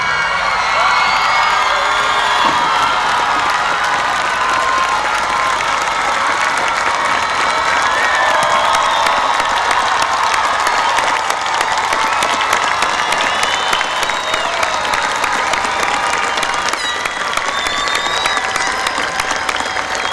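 Loud, sustained applause mixed with cheering, whoops and excited shouts from a graduation crowd greeting a soldier's surprise return from Afghanistan to his sister, clapping dense and unbroken throughout.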